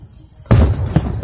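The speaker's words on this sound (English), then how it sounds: "it's the fucking fireworks" A firework goes off at close range with a sudden loud blast, followed by a second sharper crack about half a second later and a rumbling tail.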